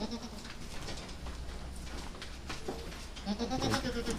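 Goats bleat over a noisy, rustling pen, with a few scattered calls and a louder, clearer bleat near the end.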